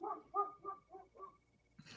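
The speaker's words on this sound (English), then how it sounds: "it's my dog over there" A dog barks about five times in a quick, evenly spaced run, fairly near but soft, followed by a short burst of noise.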